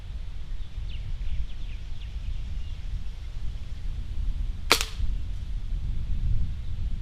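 A single sharp gunshot fired at a target downrange, heard far off over steady outdoor background noise, with no talking.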